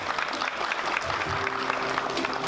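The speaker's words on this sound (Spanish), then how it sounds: "Un fuerte aplauso para ellos." Guests at a baby shower applaud together in a steady burst of clapping, a few lingering tonal sounds drifting in partway through.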